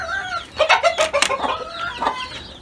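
A broody hen clucks repeatedly as she is let out of her coop among a mixed backyard flock, a close run of short, throaty clucks with brief pauses.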